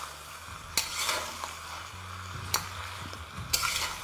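Spring onions fry in a pan with the lid just lifted, a steady soft sizzle broken by three sharp scrapes of a stirring spoon spaced a couple of seconds apart, close by.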